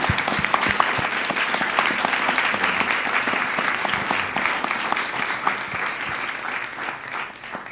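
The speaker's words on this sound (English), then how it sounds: "One more round of applause." Sustained audience applause closing a panel discussion on immigration and belonging at a public civic event, dense steady clapping throughout at an even, full level, easing slightly toward the end.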